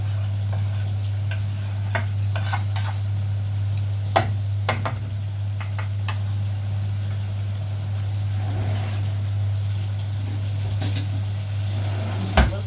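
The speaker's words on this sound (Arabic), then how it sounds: "انا كده نقلت السمك على العين بوتاجاز تانية تتقلي زي ما انتم شايفين" Fish frying in oil on a second gas stove burner, a steady close sizzle running throughout with a constant low burner hum and a few sharp clicks and pan scrapes.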